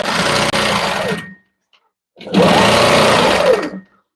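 A sewing machine runs fast during ruler quilting in two loud, steady bursts of buzzing stitching separated by a short silent pause, close and alone.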